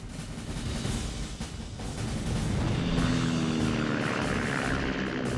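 Piston engine drone of an F4U Corsair, a WWII naval propeller fighter with a huge 13-foot propeller, a steady moderately distant roar that swells slightly midway and holds without any voices.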